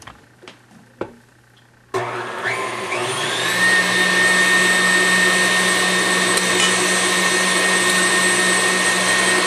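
An electric mixer beats egg whites with powdered sugar. A few faint knocks come first, then the motor starts and runs at a loud, steady whine, rising slightly in pitch and holding without talk.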